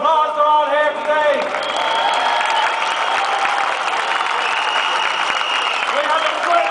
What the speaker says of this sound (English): I'd like you all to give them a round of applause.